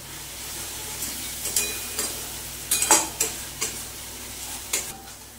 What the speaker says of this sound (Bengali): মশলাটা প্রায় ভাজা হয়ে এসছে